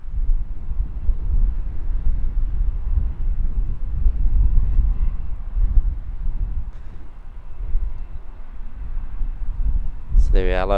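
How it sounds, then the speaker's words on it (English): Jetstar A320 airliner taxiing toward runway 23 left at Auckland Airport on a windy day, a low rumbling engine drone mixed with gusty wind buffeting the microphone, with a brief voice at the very end. "Jetstar A320 there, taxiing down to 23 left for a departure, heading off to Queenstown, flight 297."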